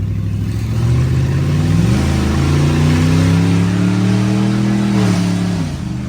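A 2000 Chevrolet Silverado GMT800 truck engine with no catalytic converters revs loudly and close up, climbing in pitch, holding high and then dropping back, with a raw, unmuffled exhaust roar.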